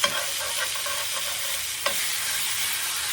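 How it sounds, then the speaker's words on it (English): Pork chops go into a hot pan packed with vegetables, giving a steady sizzling fry with a soft clatter of stirring and one brief knock partway through, close and moderately loud with no voices. "now I got to take my chops and I'm going to put them in here"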